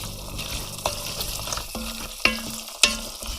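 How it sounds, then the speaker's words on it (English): A spoon stirs tomato puree through a bulk batch of baked beans, making soft wet scraping and sloshing with a few sharper clacks against the pot, close and fairly quiet with no talking. "So we put it in there, mix it around a bit with the rest of the stuff"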